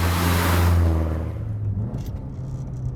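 Forged SR20 engine in a Nissan Silvia S15 under way, a loud rising rev that drops off suddenly after about a second, then settles into a quieter lower drone of the car still moving.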